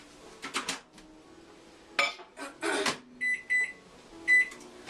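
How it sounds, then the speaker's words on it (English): Close kitchen clatter of a bowl of homemade detangler being set into a microwave oven, followed by several short keypad beeps and a final start tone. "Just going to give it a 10-second microwave there, just to get things to blend together."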